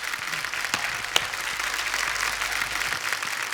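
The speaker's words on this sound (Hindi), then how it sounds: "एक बार जोरदार तालियां हमारे सभी कंटेस्टेंट्स के लिए और हमारे जजेस के लिए" A studio audience at The Kapil Sharma Show, a TV comedy show, applauds in a dense, steady wash of clapping that fills the whole stretch at a fairly loud level, with no voices.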